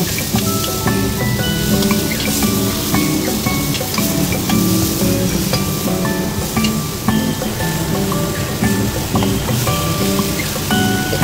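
Chopped tomato frying in a small amount of oil with garlic for a Filipino pinangat salmon head dish, giving a loud, steady sizzle throughout with no one talking.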